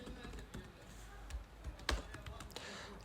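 Soft, scattered clicks of fingers typing on a computer keyboard, fairly close but quiet, with a few sharper keystrokes standing out over a low background.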